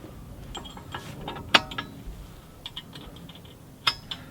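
Steel pins slide and clank into place to stow a Linville Industries excavator thumb, a quiet series of scattered metallic clicks and knocks with two sharper taps, close by and without speech.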